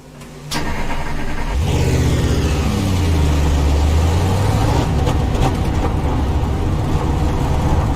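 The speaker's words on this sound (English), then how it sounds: "There's a car approaching." A race car engine in the iRacing simulator, on a dirt track, roars up after a sharp click and rises in pitch as it approaches, loud and continuous with no voices.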